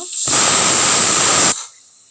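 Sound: pressure cooker whistle

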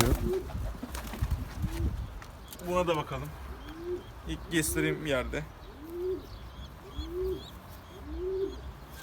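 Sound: pigeon cooing

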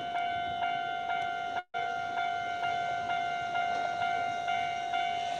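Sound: one-man train arriving at a station

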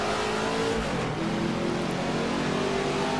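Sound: Ford GT40 engine sound, Assetto Corsa racing video game

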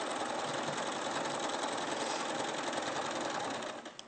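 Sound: sewing machine stitching through fabric layers

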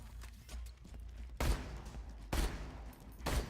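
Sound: gunfire from video game Borderlands 2

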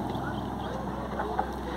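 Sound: motor ship Lindo Amanhecer III departing

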